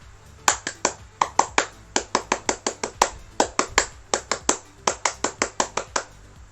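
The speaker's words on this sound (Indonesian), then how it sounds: "marilah kita tutup dengan tepuk pramuka 2 kali" An Indonesian scout group performs the tepuk pramuka twice, with a rhythmic pattern of sharp, close hand claps in quick bursts and short pauses.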